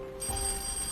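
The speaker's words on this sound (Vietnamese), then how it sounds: "anh nghe điện thoại trước đi." A telephone rings in a 1940s Macau wartime drama, a brief electronic ring starting abruptly over a steady background hum, with no one speaking.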